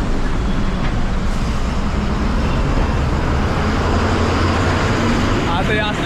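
Trucks and other traffic rumbling past on a road during a road trip, a dense, continuous roar of engines and tyres close by, with people talking over the noise.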